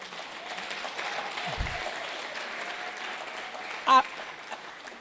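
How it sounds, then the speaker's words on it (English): Steady, dense applause from a conference audience at a women's entrepreneurship event fills the whole stretch, loud and sustained, with a brief sharper burst near the end. "Let that clap be very loud."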